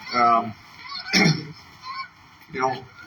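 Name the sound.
geese honking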